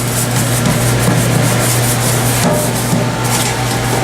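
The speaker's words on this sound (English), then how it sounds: "Make sure to scrub all areas." Brush scrubbing the flat surfaces inside a restaurant fryer during cleaning, a continuous loud rasping rub with quick back-and-forth strokes, close up and without talk.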